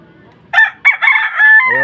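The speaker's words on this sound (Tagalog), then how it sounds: "Ayun, tumilaok ka din." A rooster crows once, close and loud, with a brief first note, a short gap and then a long, strained cock-a-doodle-doo that trails off.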